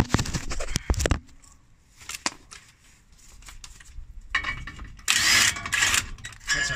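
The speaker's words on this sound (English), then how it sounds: "it helps if I actually undo the bottom bolt." Tool noises from work on the bottom bolt of a Mitsubishi L200 brake caliper: metallic clicks and clanks, scattered ratcheting taps, and a loud burst of power-tool whirring near the end.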